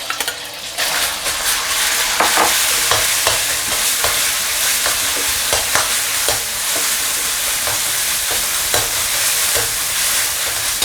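Shredded pork stir-frying in oil over low heat in a wok, a steady dense sizzle with repeated sharp scrapes and clinks of a spatula tossing the meat, close and continuous.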